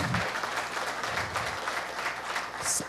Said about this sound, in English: Let us all welcome with a thunderous applause Shri Amit Jain